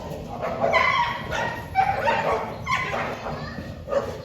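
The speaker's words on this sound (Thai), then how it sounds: "แล้วมันก็เห่ากันอย่างนี้ทั้งคืนเลยนะคะ" Several dogs gathered outside a house bark and yip in repeated bursts, fairly close, with a whimpering tone between barks; someone talks intermittently over them.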